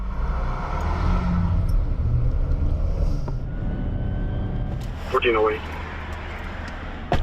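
A white car drives along a road past a police officer, its steady engine and tyre hum filling the scene before easing off, with faint traffic ambience and a brief high chirp near the end.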